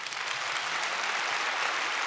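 Church congregation applauding a newly baptized family during a Sunday worship service, a steady wash of many hands clapping at moderate distance throughout.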